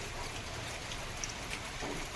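Steady rain falls in the Sundarbans, a continuous close hiss with scattered drop patter and no voices.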